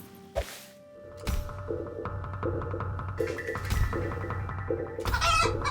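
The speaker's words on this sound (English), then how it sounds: "How hard can it be to tame a wild chicken?" Wild chicken in the game Quinfall giving short clucks and fowl calls, with repeated thunks and whacks from the taming attempt over a steady game ambience, all fairly close.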